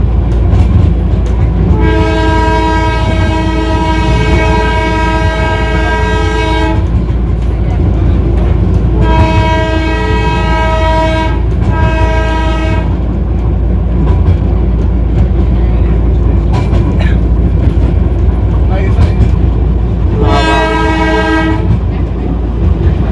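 Darjeeling toy train pulling out near Siliguri Town halt, sounding repeated long harmonic horn blasts over a steady rumble of the moving train, with a final shorter blast; voices murmur faintly in the background.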